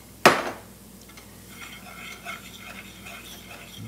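Spoon scraping and stirring meat and onions in a pan for biscuit gravy, a sharp clatter at the start followed by steady soft scraping and rustling close by.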